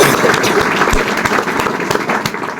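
Loud, dense applause from a crowd honouring a teacher, a steady roar of many hands clapping at once with no gaps across the whole stretch.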